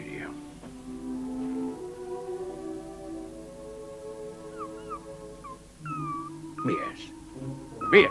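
A dog whimpers and whines in short, high, wavering cries scattered across the passage, faint and mixed with people talking nearby.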